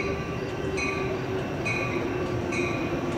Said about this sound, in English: BNSF train number 2006 to Chicago Union Station is now arriving.